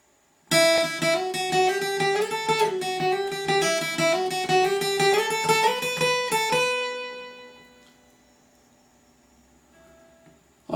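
Acoustic guitar plays the solo from a song, a run of quick plucked notes in near-triplet rhythm at moderate volume, then the last notes ring out and fade into quiet.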